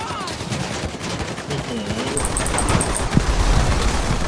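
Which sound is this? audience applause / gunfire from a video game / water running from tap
gunfire from a video game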